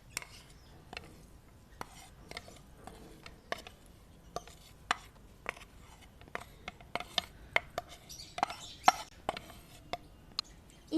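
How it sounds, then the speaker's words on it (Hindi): A spoon stirs spices into fried semolina diamonds, making light, irregular clicks and scrapes close by in a quiet kitchen, with no one talking. "अब हम ये सारे मसाले मिक्स कर देंगे।"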